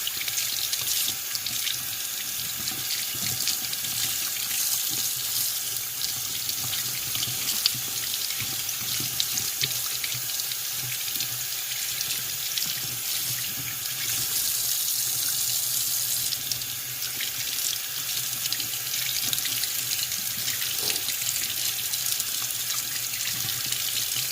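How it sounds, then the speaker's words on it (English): Cold water runs steadily from a sink tap into the basin, a constant close hissing rush that continues for the whole stretch, with no voices. "Let's get some cold water going here"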